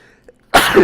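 A single sharp, loud sneeze bursts out near the end after a faint moment of quiet.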